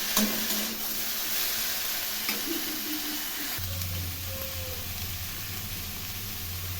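Broccoli frying in a pan for a curry, a soft, steady sizzle with faint occasional stirring, continuous and fairly quiet throughout.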